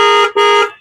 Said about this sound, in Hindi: हॉर्न जो स्कोडा वाले लगाए हैं ये आपका